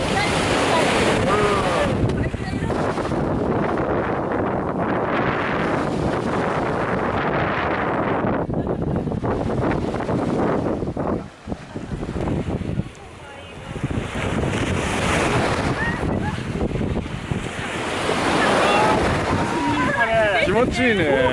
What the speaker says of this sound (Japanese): 波が不意打ちで来るので。